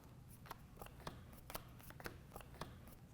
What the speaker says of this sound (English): take all of the selected cards and shuffle them together